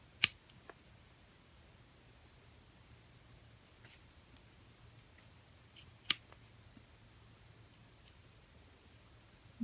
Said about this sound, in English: So now I'm going to start trimming down the ends. I'll trim it down here.